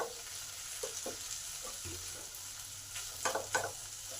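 Potatoes fry in a pan for a vegetarian cabbage dish, a soft, quiet sizzle with occasional light clicks and scrapes of a spoon, close by and without speech.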